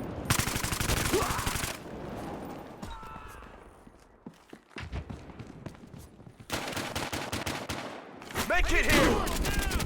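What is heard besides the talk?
gunfire, from the video game Battlefield Hardline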